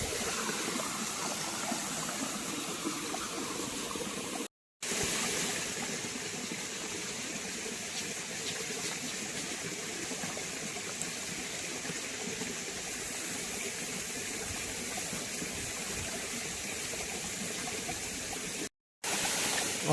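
Stream water flows steadily outdoors while a shovel and a metal pan are rinsed in it, a continuous close rushing and trickling wash with two brief silent breaks and no voices.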